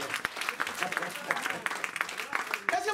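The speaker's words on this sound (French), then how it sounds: "Quand même une acclamation" Church congregation applauding a pastor's sermon, a dense, steady patter of many hands clapping with cheers and voices mixed in throughout.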